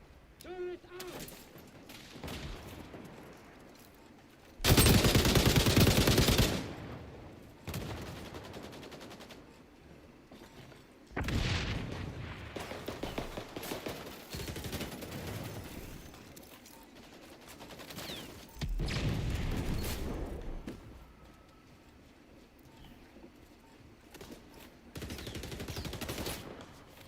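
An automated turret in the shooter XDefiant fires in several loud, sustained bursts of rapid gunfire separated by quieter stretches, with scattered shots and a player's voice in between.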